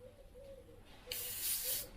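An airbrush sprays thinned paint in a steady, quiet hiss that starts about halfway through and continues at a soft, even level.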